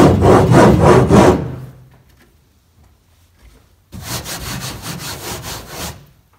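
A hammer claw scrapes hard across a textured DIY truck bed liner, the Bullyliner side, in a loud rasping burst of rhythmic strokes, then a pause of near silence before a second stretch of scraping.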